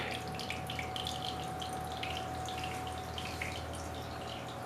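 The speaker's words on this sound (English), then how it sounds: "That's a good sized pond there, a little waterfall." A small waterfall spilling into a good-sized garden pond beside a stream, giving a steady, soft trickle and splash that stays even and fairly faint throughout, with no talking.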